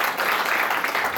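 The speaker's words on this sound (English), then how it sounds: "Give a round of applause one more time." A brief burst of audience applause at an anime convention game panel, steady and fairly soft with no voices over it.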